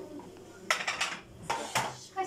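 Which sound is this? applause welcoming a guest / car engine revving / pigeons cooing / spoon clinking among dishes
spoon clinking among dishes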